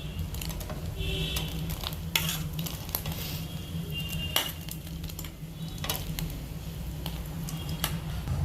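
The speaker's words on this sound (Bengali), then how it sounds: "এবার মায়ের মধ্যে দিয়ে দেবে ভেজে রাখা সবজি আর পনিরগুলো" Fried vegetables and paneer tip into simmering gravy for shahi malai paneer: soft bubbling and sizzling under repeated clinks and scrapes of a spoon against the pan, close by.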